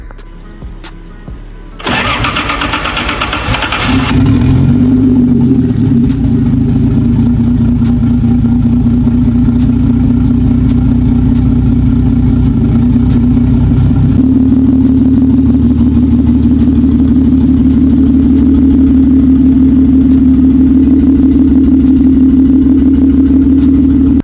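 A big-turbo 2JZ engine swapped into a Nissan 300ZX cranks and starts, then settles into a loud, steady idle with a constant droning tone that shifts slightly partway through, recorded close with no talking.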